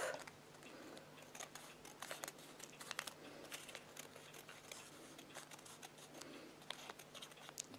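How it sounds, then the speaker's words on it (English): Scissors snip around the edges of a paper poppy in a run of quick, faint cuts with light paper crinkling in between, close by and irregular, with no talk. "So just literally the edges, just trim them off."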